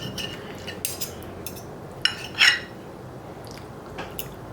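Knife and fork cut through a tender pork chop on a plate, giving a few faint, close scrapes and light clinks of cutlery against the dish, with one brief sharper clink near the middle.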